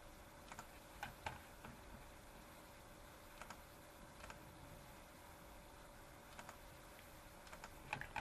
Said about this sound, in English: Just left clicking the whole time.